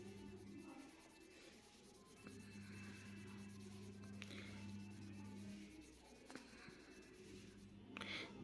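Handwriting during a class lesson: steady scratchy pen or pencil strokes, close and continuous, over a constant low electrical hum, with no talk.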